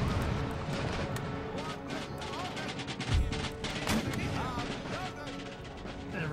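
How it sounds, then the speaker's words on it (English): Musket and artillery volleys from an Empire: Total War battle, with militia, bowmen, light infantry and Hessian line troops, crackle and thud continuously throughout under a dense battle din, with a heavier boom about halfway through. "Everybody's opening fire."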